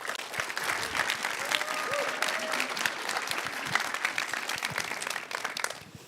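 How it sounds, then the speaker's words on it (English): An audience at a startup program showcase gives a sustained round of applause, crisp dense clapping that holds for about six seconds before tapering off, with faint voices mixed in. "let's give Alex a round of applause"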